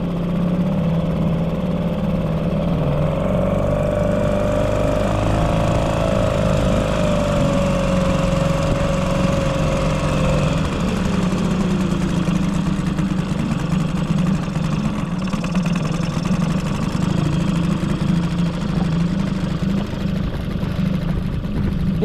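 A small boat engine idles while warming up on a river, a steady loud mid-pitched drone with a slight upward shift in tone partway through, running alone without talk.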